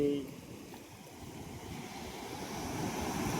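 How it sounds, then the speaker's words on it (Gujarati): Water rushing from the overflowing Machhu Dam 2 at Morbi, a continuous broad roar heard from nearby, buffeted by wind noise and building slightly toward the end. "આ બાજુ ઘણું બધું પાણી આવે છે"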